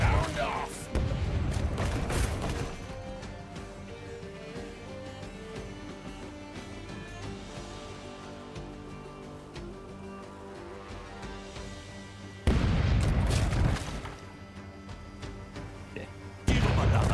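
Ship cannons firing in the pirate video game Rogue Waters: a loud volley of booming blasts at the start, then a later pair of heavy cannon bursts, with a musical soundtrack and in-game voices in between.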